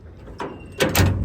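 A truck door shuts in two stages, a first knock and then a heavier clunk with a brief rattle, loud and close, with no talk over it.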